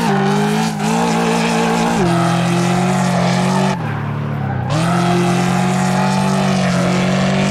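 Ford Mustang GT engine in the racing game Assetto Corsa, a loud sustained roar holding a steady pitch, briefly dropping and rising again as the throttle lifts and reapplies, with a hint of tire noise.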